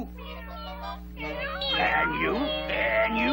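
Kittens in a Tom and Jerry cartoon let out several overlapping high meows, growing louder and more insistent over a steady background hum.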